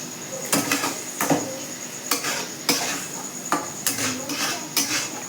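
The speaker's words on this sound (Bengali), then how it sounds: "আর এখানে এগুলো ভাজা হচ্ছে।" Pasta and fried egg cooking in a pan with soy sauce to come, a crackling sizzle broken by regular clanks and scrapes of a utensil stirring against metal, close and busy.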